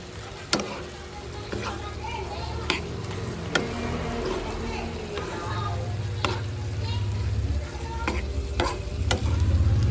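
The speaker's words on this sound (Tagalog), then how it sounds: "Ilalagay na natin yung ating ampalaya" Bitter gourd (ampalaya) cooking in a pan with a little broth, with steady close sizzling and bubbling broken by sharp utensil clacks and scrapes as it is stirred.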